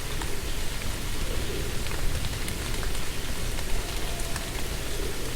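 Rain falls steadily in The Moon Sliver game, a dense, even hiss of downpour with scattered patter of drops, loud and continuous with no voices.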